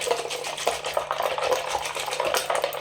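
A spoon stirring homemade lassi made with curd, giving a continuous close scraping and swishing with soft repeated clicks against the vessel.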